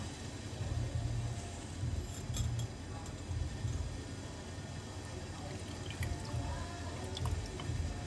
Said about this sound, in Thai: จากทุกอย่างละลายเข้ากันเป็นที่เรียบร้อยแล้วนะคะ จากนั้นนำมากรองค่ะ